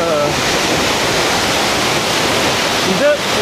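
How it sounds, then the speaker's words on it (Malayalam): Valanjanganam waterfall pours with a steady, dense roar of rushing water, loud and close, filling the whole moment without a break. "വളഞ്ഞങ്ങാനം വാട്ടർഫോൾസ്"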